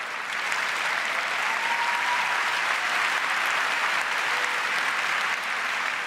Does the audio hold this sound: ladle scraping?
no